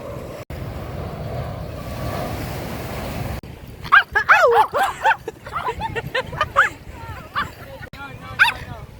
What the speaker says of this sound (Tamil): நாய் குலைக்கிறதுக்காக வந்துட்டு ஓனர் சாரி கேட்குறாங்க